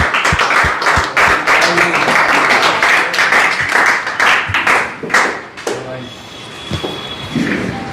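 An indoor audience claps loudly and densely for several seconds, then the applause thins into scattered claps, with voices mixed in.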